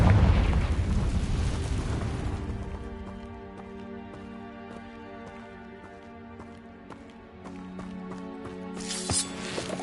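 In a Harry Potter video game, a Confringo spell explosion bursts loudly at the start and decays into a lingering rumble beneath a tonal game score, with a fresh burst at the end.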